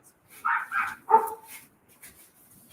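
A dog barks three times in quick succession, close and fairly loud, followed by a few faint softer sounds in a quiet setting.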